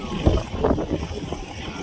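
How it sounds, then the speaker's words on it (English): Rough, gusty wind buffets the microphone with low rumbling bursts and hiss, loud and close. "there's massive wind around here"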